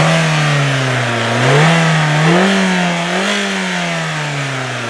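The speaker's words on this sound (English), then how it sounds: "I'm going to reach in here and try to rev this thing up without losing a finger" Under the open hood of a 2003 Kia Rio, the 4-cylinder engine is revved by hand, loud and close, its pitch climbing and falling in several blips over a steady idle.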